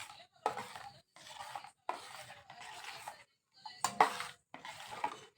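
Thick sikarni mixture of jaggery, crushed ginger and cardamom stirred by hand in a bowl, close and moderately loud, in repeated scraping strokes with short pauses between them, no talking.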